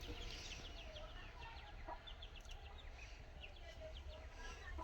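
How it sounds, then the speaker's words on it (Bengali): A hen clucking in a rural yard with short, repeated chirpy calls over a low background rumble. Faint human sounds are mixed in, and the clucks stay fairly close and soft throughout. "এই তো মুরগিটা"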